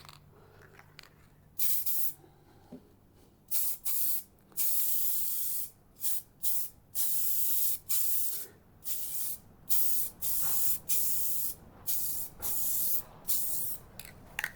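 A spray gun applies metallic base coat paint in short repeated bursts of sharp, close hissing spray separated by brief pauses, with a faint hum in the background.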